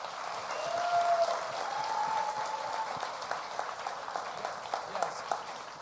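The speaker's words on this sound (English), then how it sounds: "Let's have a round of applause for our Tomb Raider panel" Sustained applause from a convention audience for a Tomb Raider panel, dense clapping that swells early and gradually thins, with a few voices faintly mixed in.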